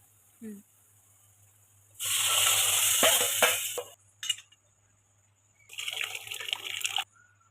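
Water splashes and pours into a cooking pot of roasted ground dal in two bursts, a longer stream followed by a second shorter pour, close by, with a steady low hum underneath.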